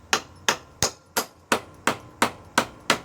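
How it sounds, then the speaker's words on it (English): A big hammer taps lightly on the bolts of an old mountain bike suspension fork: nine sharp metallic knocks at a steady, even pace, each ringing briefly before the next, close and alone. "you can normally just give them a little tap like this big hammer"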